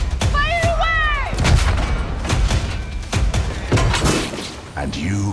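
Ship cannon fire in a video game, a string of booming, cracking shots under rapid spoken dialogue and music, with some shattering debris mixed into the busy soundtrack.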